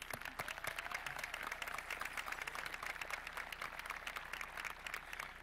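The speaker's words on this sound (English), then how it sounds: "Give yourself an applause." A graduation audience applauds, a fairly faint but continuous patter of many hands clapping from a distance in a large hall, holding steady for several seconds.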